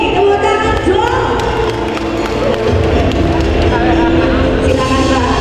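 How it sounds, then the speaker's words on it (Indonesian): Applause and cheering from a talk show audience, loud and continuous throughout, with clapping blended into crowd noise. "Tepuk tangan dong."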